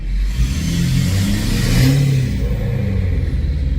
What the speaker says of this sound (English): the windows down so you can hear this exhaust.